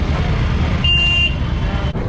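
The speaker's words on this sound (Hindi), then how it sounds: "यहाँ पे तो गली में भी जाम लग गया है।" Street traffic jam in Gaya, Bihar: one short car horn toot cuts through a steady, loud rumble of idling and creeping vehicles.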